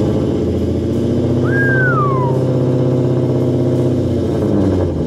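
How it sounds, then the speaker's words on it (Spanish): A stock Ford Mustang with a 5-liter V8 idles and runs steadily at close range, a continuous, even engine rumble heard alone for the whole stretch. "Es un Mustang 5 litros V8, anda bastante duro y suena impresionante."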